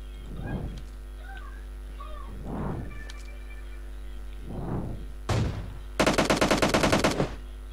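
Video game gunfire in a shootout: a few swelling muffled thumps, then a single sharp crack and a loud rapid automatic burst lasting about a second near the end, with no talk.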